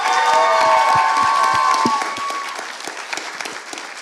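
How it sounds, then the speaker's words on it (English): Cheering and applause from an audience at an evening speech competition rise loud at first with sustained shouts and whoops, then settle into steadier clapping that gradually thins out. "Let's give another big round of applause for all of our speakers tonight."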